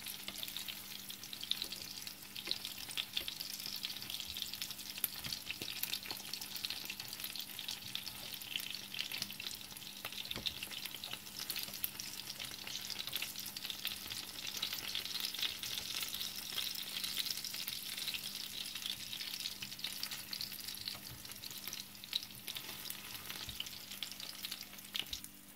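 Tofu fries in a pan, a continuous even crackling sizzle held at a steady level for a long stretch, close up with a faint low hum beneath and no speech.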